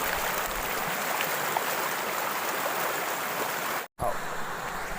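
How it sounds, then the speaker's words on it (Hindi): Babbling water of a flowing stream in rocky hill country near a temple, a steady close rushing wash that runs continuously alone, cut by one brief dropout near the end. "यहाँ पानी की कल कल की आवाज़ आ रही है"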